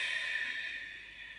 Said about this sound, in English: you sound a bit like Darth Vader when you do it